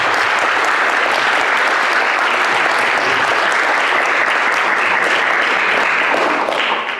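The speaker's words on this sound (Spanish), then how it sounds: "Me gustaría que les aplaudan a ellos porque vinieron a escuchar a" Loud, sustained applause from an audience at the closing panel of a 2018 forum in Asunción, a dense steady wash of clapping that continues throughout and fades slightly at the very end.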